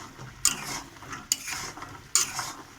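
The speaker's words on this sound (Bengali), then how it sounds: "নিয়ে এর মধ্যে আমি এটা দিয়ে নাড়িচাড়ি করব" Fried dough sticks for gur kathi sweets are stirred in sugar in a wok, with three distinct scraping strokes at an even pace over a soft sizzle, close by.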